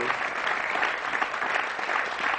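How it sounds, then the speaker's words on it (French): An audience at a televised gratitude program applauds, a steady, dense wash of clapping from many hands that holds at an even level throughout. "Voilà, on les applaudit"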